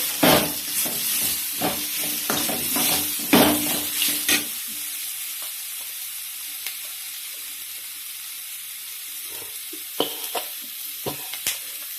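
Coriander powder frying in a pan for mutton sambar, first with several loud, close stirring scrapes over a bright sizzle, then a quieter steady hiss with a few scattered clicks.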